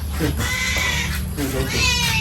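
Near and fairly loud, a cat meows at a Thai home where grilled fish is being made for dinner, several drawn-out calls mixed with people talking.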